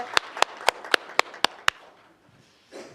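Seven sharp, evenly spaced claps ring out at a policy forum on AI digital textbooks, close and crisp in a steady rhythm before falling silent.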